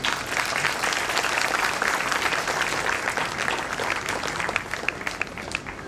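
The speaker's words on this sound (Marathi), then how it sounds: "हा टाळ्यांचा कडकडाट" A crowd applauds steadily, many hands clapping loudly and densely throughout, with no talking.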